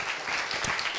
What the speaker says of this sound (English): these guys deserve a good round of applause for that one